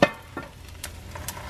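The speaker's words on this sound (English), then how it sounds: "the beautiful sound of eggs frying up" Eggs fry in a pan with a soft, continuous sizzle, punctuated by a clatter at the start and a few sharp crackles popping up at intervals.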